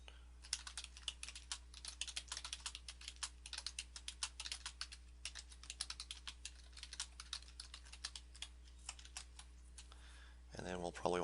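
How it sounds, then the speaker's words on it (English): Fingers tap out text on a computer keyboard in quick irregular bursts of crisp clicks, close and fairly quiet, with a brief louder shuffle near the end. "You can put something in here simply by typing in"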